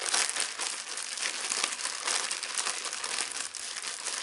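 Floam, a moldable bead craft compound, being mixed and clumping inside a plastic bag, giving a steady, close crinkling and crumpling rustle throughout with no talk.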